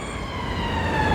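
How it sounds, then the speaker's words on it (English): A steady wailing ambulance siren sounds at moderate distance near a main road, rising slightly in pitch, with a low traffic rumble underneath and no talking. "just about to walk up to the main road on Norman Way, and we can already hear a siren."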